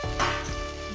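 Ginger and tomato frying in a pan for a vegetable dal, a brief close burst of hissing sizzle that swells and then settles, with no talking.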